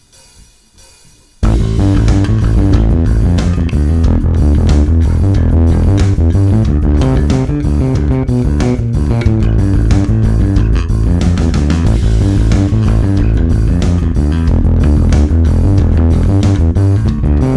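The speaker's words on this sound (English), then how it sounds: "So the whole bass line up to speed sounds like this." Fast shredding bass guitar line played up to speed, a dense run of quick repeated notes with a steady driving rhythm entering after a short quiet lead-in and continuing loud and unbroken.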